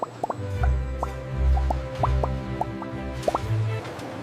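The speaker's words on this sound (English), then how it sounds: "Bars pass through flowing chocolate that coats every surface." Chocolate bars passing through a flowing chocolate coating on a factory line, heard as a series of wet plops and drips over a low, continuous machinery rumble.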